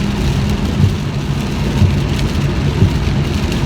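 Steady rain pours on a moving car, a continuous hiss over the low drone of the engine and road.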